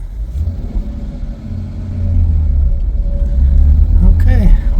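A Jeep engine idles and pulls away with a steady low rumble that builds as it drives, with a brief voice near the end.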